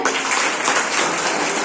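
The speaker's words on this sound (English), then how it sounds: "Clap hands once again for yourself." Students at a school induction program clap their hands together, a dense, steady burst of group applause lasting under two seconds at close, even loudness.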